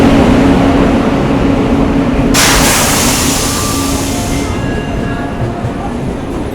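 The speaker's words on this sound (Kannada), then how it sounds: "ನಮ್ಮ ಟ್ರೈನ್ ಬಂತು ಇವಾಗ." The Kacheguda Express rolls into a station platform, a loud, close, continuous rumble of wheels and carriages with a steady hum and brief high squeals as it slows.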